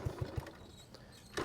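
A small old Cushman engine idling, a faint low putt-putt with a few evenly spaced pulses, then a brief louder burst near the end, quiet and somewhat distant.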